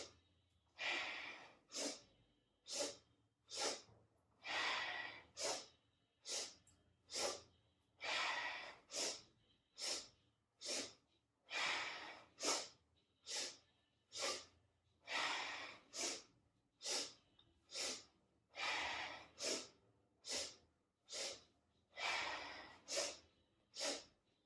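Deep, forceful breaths during a morning yoga flow, about two dozen audible inhales and exhales repeating in a steady rhythm, close and fairly loud.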